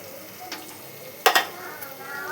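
Green chilies frying in hot oil in a pan, a soft sizzle with a sharp burst of stirring clatter midway, close and fairly quiet, no talking.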